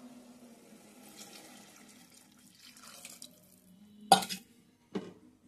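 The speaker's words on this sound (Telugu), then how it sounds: "లోటాడు వాటర్ పోసానండి." A lota of water poured into a pressure cooker of dry meat masala curry, heard as a faint trickle at first, then a short, loud splash and a smaller one just after.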